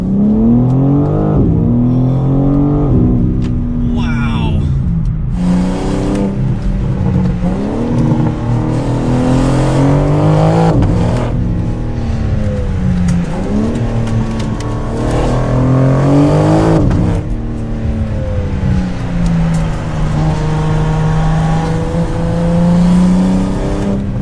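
A 2023 BMW M4 CSL's engine and exhaust roar close and loud throughout while driving, with repeated surges of revving and acceleration, gear-change dips and a brief tire squeal.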